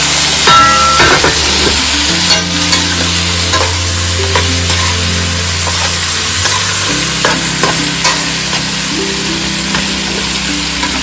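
Curry chicken cooking in a covered pot, a loud steady sizzle and hiss with stirring scrapes and a low humming undertone throughout.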